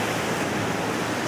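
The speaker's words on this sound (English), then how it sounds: "ooh, big wave." A big ocean wave crashes onto coastal rocks, a broad loud wash of surf noise filling the short moment with no voices.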